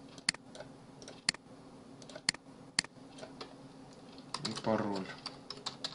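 Someone types an ID number on a computer keyboard: sparse, crisp key clicks close by in an irregular rhythm, with a brief spoken voice near the end.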